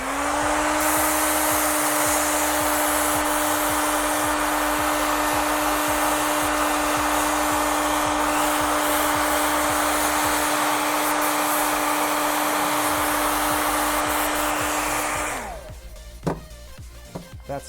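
A hair dryer blows steadily and loudly for about fifteen seconds, drying airbrush paint on a hat, then switches off and winds down, leaving a few faint handling clicks.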